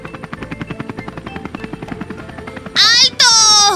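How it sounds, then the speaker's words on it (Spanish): Cartoon helicopter with spinning rotor blades in a children's animated show about building aircraft: a steady rapid chopping rotor rhythm runs throughout, joined near the end by two loud bright synthetic whirring bursts. "No pueden pasar a la plataforma hasta que las hélices del helicóptero hayan dejado de girar."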